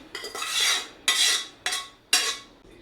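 A spoon scrapes through cooked vegetables and water in a pan for white veg kurma, four distinct stirring strokes at a steady rhythm, close and clear.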